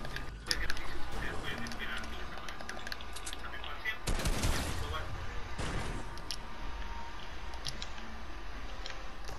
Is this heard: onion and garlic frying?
no